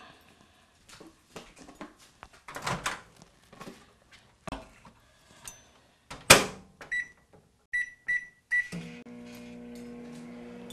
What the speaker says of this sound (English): you make sure you cover it and you place it in the microwave for about 5 minutes.